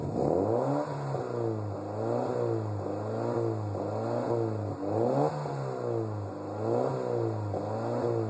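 An Alfa 75 Twin Spark engine revs repeatedly against a soft rev limiter, rising and cutting back in a regular cycle roughly every second, a close, steady mechanical drone with clatter.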